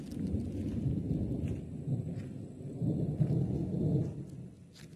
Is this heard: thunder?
yes